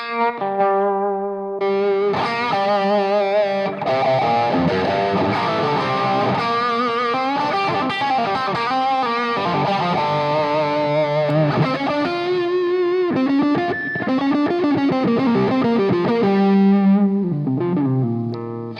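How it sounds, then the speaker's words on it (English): Electric guitar through a Rangemaster treble booster, bright, crunchy and slightly noisy, strumming chords and picking riffs continuously for several seconds, loud and close. "This is the Rangemaster, a very expensive unit which sounds like this."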